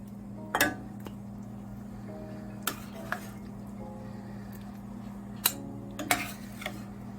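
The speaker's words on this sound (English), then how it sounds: "I'm just gonna place it in this bowl" Clinks and knocks of a spoon against a bowl as curry breadfruit and saltfish is dished out, a few sharp separate taps over a steady low hum, fairly quiet.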